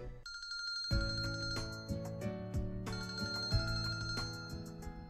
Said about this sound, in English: My phone rang, and is continuing to do so.